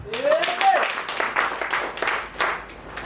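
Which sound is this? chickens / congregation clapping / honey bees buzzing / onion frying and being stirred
congregation clapping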